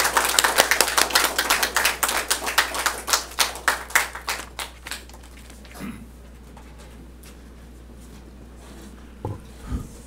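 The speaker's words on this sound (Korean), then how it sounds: "우리 힘찬 박수 한번 부탁드리겠습니다" An audience at a Korean unification academy lecture claps loudly as a senior adviser and former inter-Korean talks delegate is welcomed, a brisk burst of many hands that thins to scattered claps and fades out after about five seconds into quiet room tone.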